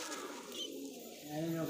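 A soft, low cooing from a nearby pigeon, a couple of rolling throaty notes that swell toward the end over faint background noise.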